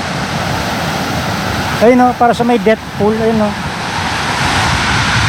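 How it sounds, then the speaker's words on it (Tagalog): Strong ocean waves surge and wash up a beach campsite shore in Agno, Pangasinan, a steady broadband roar of surf throughout, with someone talking briefly over it midway. "Lakas ng alon, no?"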